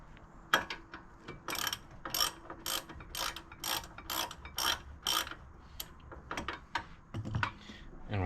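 Someone works a hand ratchet on the brake caliper bolts of a 2006 Volvo XC70. It gives a rapid series of sharp metallic clicking bursts in an uneven rhythm, close by.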